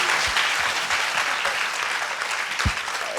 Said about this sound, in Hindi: एक बार जोरदार तालियां इन सभी के लिए.